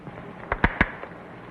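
A few sharp gunshot cracks in a frontier western standoff, three quick close reports in a row, alone without talk.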